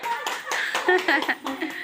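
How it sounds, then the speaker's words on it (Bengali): A group claps along after a song, a dense patter of hand claps mixed with voices and light laughter close by. "তালি দাও তালি দাও, এত সুন্দর গান শোনাইলো।"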